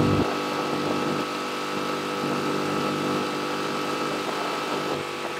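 A Mercury/Tohatsu 6HP four-stroke outboard motor runs at wide open throttle around 5400 RPM on a loaded small boat, a constant close, buzzing engine drone with water rush, steady and unbroken.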